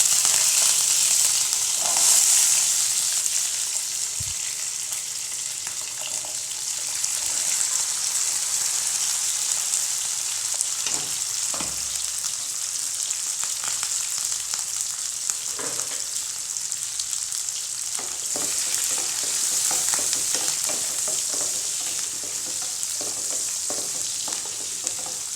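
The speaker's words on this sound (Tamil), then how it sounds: "வெங்காயம் வதங்கிடுச்சு." Onion and curry leaves fry in oil in a pan for a sambar tempering, a continuous bright sizzle punctuated by occasional stirring scrapes and pops, steady and close with no talking.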